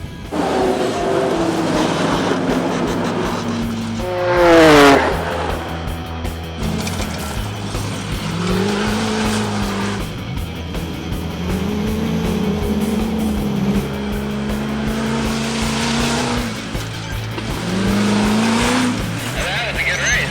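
Drag race at SEMA between a '70 Mustang, a Porsche 911 and an Ultra Four buggy, with loud engines revving and sweeping past, rising pitch on acceleration, over crowd noise and voices.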